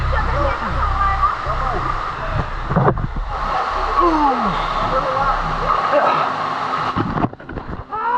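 A waterfall in a canyon in Paraná, Brazil roars steadily close by while a person talks over it.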